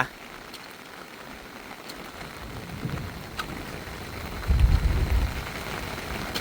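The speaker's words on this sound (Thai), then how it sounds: "ดีใจที่ฝนตกพี่น้องจ๋า" Rain falls at a rural Thai home, a faint, steady wash of hiss with a soft low rumble swelling briefly near the end, heard alone.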